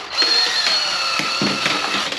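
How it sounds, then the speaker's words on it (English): A power drill twisting wires together for a wiring harness whirs in a short, uneven burst, its motor pitch wavering as it spins close by. "And you can stick them in a drill."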